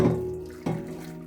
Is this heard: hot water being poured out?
yes